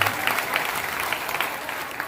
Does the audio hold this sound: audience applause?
yes